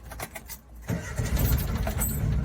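A Suzuki Samurai engine cranks briefly, then catches and starts, settling into a steady, close, rough running rumble with no talk.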